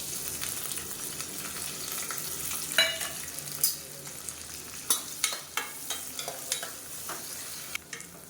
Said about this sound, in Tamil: இப்போ இதில் பொடியாக நறுக்குன்னு வெங்காயம் சேர்த்துக்கலாம்.